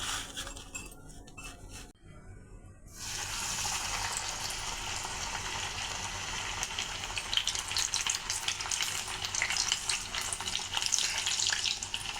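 Rolls coated in cornflour paste and breadcrumbs deep frying in hot oil, a steady dense sizzle that swells after a brief lull and keeps crackling, close and fairly loud, with no talk.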